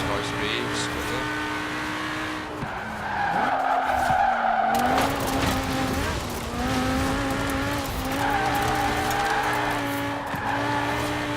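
Race car in Forza Horizon 4 skidding at high speed, a loud continuous tire squeal over a roaring engine whose pitch rises and falls through shifts, with a brief dip midway; someone talks over it.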